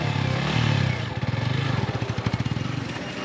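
A motorcycle engine runs while riding, loud and close, with a steady throbbing rumble that turns into a rhythmic pulsing chug partway through.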